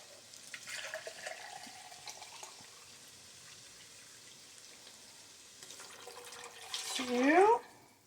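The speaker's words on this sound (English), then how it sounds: "So now we're going to add in about 8 cups of water." Water pours steadily into a pot of pork and sauerkraut, a soft rushing splash that swells near the end as the pitch of the filling rises, with no talking over it.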